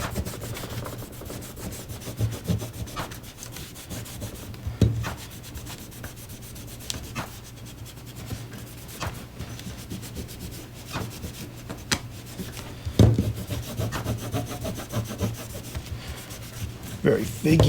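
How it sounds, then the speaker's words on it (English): A cloth vigorously wipes down the slide of a SIG P365 X-Macro pistol during cleaning, producing continuous close rubbing and scrubbing with occasional sharper scrapes, under a faint background hum. "Just gonna wipe down the slide."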